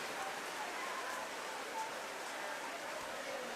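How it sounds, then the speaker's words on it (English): Heavy rain pours steadily over an outdoor pool at the OECS Swimming Championships in St. Vincent and the Grenadines, a dense continuous hiss with no pauses. "The rain is coming down very heavily."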